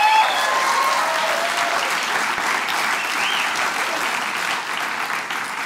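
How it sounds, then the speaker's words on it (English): Audience applause at a live announcement event, a dense, steady wash of clapping that slowly fades, heard alone without talk. "So once again, a round of applause for Peter Stris"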